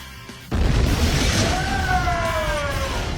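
Explosives set off with popcorn kernels, a sudden loud boom followed by a sustained rushing roar and ringing tones that slowly fade, with no voices.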